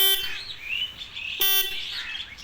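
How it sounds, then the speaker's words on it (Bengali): An electric horn wired to a battery and switch on a home-built electric bicycle gives two short, loud, close blasts about a second apart, each a bright buzzing tone. "সো এবার হর্নটা তোমরা শোনো"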